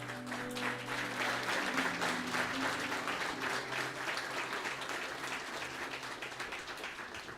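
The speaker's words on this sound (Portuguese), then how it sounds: "Aplauda o Senhor, amém?" A church congregation applauds in praise, a thick continuous wash of clapping that swells early and holds steady, with sustained organ or keyboard tones underneath.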